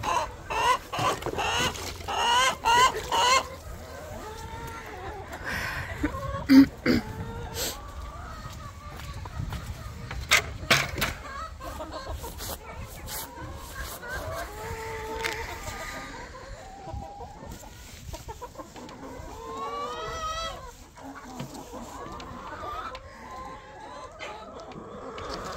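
A flock of chickens clucks and murmurs while feeding, a busy near chorus of clucks with an occasional rooster crow farther off, and someone talks over them now and then.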